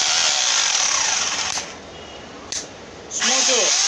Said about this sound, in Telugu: చిప్పింగ్,